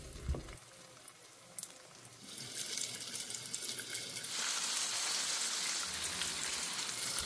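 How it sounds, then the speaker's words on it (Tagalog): Stuffed ampalaya fries in hot oil in a pan, opening with a few clicks and handling noises before a steady, bright sizzle builds and grows louder, close and continuous, no talking. "magpainit tayo ng mantika sa isang pan, tapos iprito natin isa-isa yung mga i-prepare nating ampalaya"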